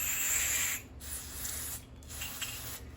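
A spray gun's nozzle and needle are blasted clean with a hissing spray in short bursts, a long spray, a pause, then two more, close and steady with no talk.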